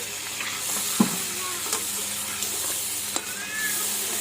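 Stirring a ground poppy seed, mustard and chilli paste with a little water in a pan, a steady close sizzle with a few soft scrapes and knocks of the spoon against the pan.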